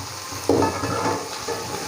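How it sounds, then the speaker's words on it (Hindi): Cut okra (bhindi) fries in a pan, giving a steady hiss and sizzle with a sudden burst of crackling as it is stirred, close by and without any talking. "हमने भिंडी को जस्ट 3 से 4 मिनट के लिए फ्राई करना है"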